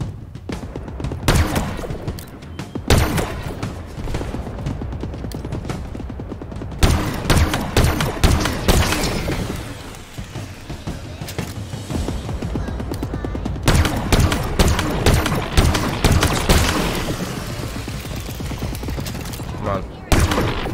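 Gunfire in Halo Infinite, including sniper rifle shots, heard as loud repeated cracks and bursts spread across a long, busy stretch of combat noise.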